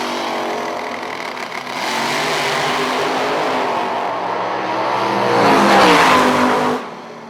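Drag racing cars, including a Camaro, launching at a bracket drag racing event: loud engines build into a roaring acceleration that swells and then cuts off sharply, no talking.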